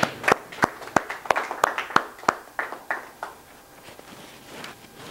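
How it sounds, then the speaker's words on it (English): A small audience claps in a short burst of separate, fairly sharp claps that grows sparse and fades out over a few seconds, with no voices over it. "give yourself a round of applause for coming."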